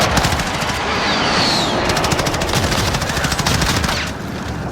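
Sustained airstrike gunfire in a video game, a loud, continuous rattle of rapid shots lasting several seconds without a break, with no talking.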